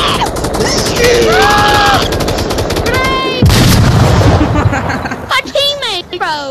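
A VR shooter game fills with loud, rapid gunfire, then a grenade explosion bursts midway. Sporadic shots and electronic tones continue afterward while voices talk excitedly over the action.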